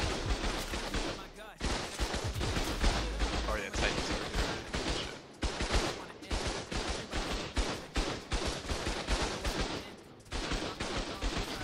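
Rapid bursts of gunfire from a first-person shooter fight in the survival game ARK on a PvP server, dense and continuous, with sharp repeated shots packed throughout and a voice talking over the action.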